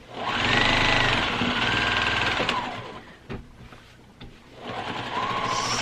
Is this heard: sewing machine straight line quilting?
yes